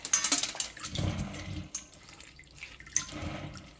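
Lentils (dal) being rinsed by hand in water, with irregular splashing and swishing close by and a few sharper splashes. No talking.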